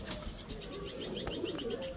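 Indian pigeons kept by a fancier, a pair cooing and stirring close by, with soft coos and a brief wing flutter over a steady background hum.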